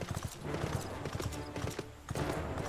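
Hooves of a dark horse mount clip-clop in Final Fantasy XIV, a steady, close, fairly loud trotting rhythm with a short pause partway through.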